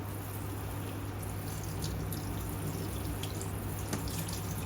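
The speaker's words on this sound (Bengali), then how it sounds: "দেখুন কিভাবে ধুয়ে নিচ্ছি জাস্ট চালনির সাহায্যে" Pieces of bottle gourd being washed in a sieve under running water, a faint, steady stream of splashing and dripping from a tap with no talk.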